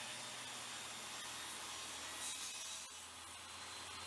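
Table saw cutting a 45-degree miter in wood on a sled, a faint continuous rushing whir of blade and dust with a slight swell midway, steady throughout and without speech.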